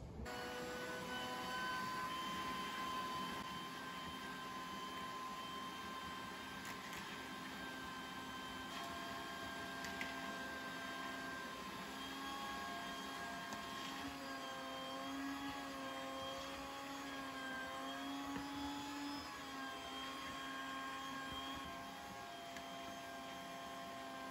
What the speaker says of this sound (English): I'm gonna start with a shop vac just to get up all that pet hair and dirt